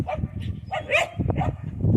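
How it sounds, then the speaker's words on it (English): A dog barks several times in short bursts at moderate distance in a spring vegetable garden, with outdoor background noise throughout. "She's barking at Allie and Carson over here with me"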